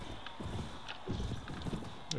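Horse hooves clip-clop in the video game Perisno, a steady run of muffled hoofbeats within a busy, noisy game soundscape.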